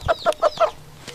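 Chickens clucking close by, a quick run of four sharp clucks followed by a fainter fifth, with no talk.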